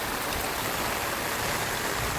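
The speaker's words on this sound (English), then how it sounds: "we're having no issue with getting water in there fast" Rainwater from surface runoff rushes steadily into a French drain and downspout drain catch basin in a yard, a continuous close, loud gushing wash with no pauses.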